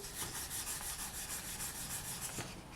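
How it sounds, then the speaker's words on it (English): Soft rhythmic rubbing of 400 grit sandpaper across a faux obsidian resin pendant, gentle even back-and-forth strokes, quiet and close with no talking. "Just gently start sanding."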